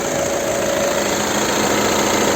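A warmed-up 2015 VW Touran 2.0 TDI diesel engine idling steadily and loudly, a constant rumbling hum with no change in pace.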